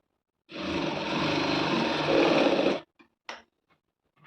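A sewing machine runs a short burst of stitching through fabric, a steady close whirring lasting about two seconds, followed by a couple of faint clicks as it stops.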